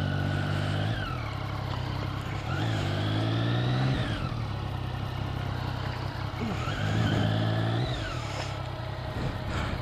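Video game car tires squealing and skidding as an engine drones continuously, with repeated rising whines and screeches over steady motor noise.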